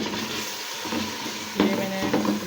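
Tomatoes and green chillies hitting hot oil in a pan for chana pulao, a steady close sizzle with a louder burst and stirring scrapes midway, no talking.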